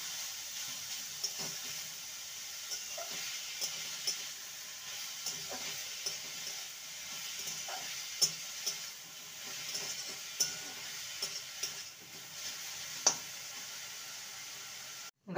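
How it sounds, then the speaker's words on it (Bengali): Grated carrots fry in a pan under a faint, steady hiss, with soft irregular spatula taps and scrapes spread throughout as they are stirred. "গাজরটাকে ভালো করে নেড়ে নিতে হবে যাতে করে গাজরের যে কাঁচা গন্ধ থাকে সেটা"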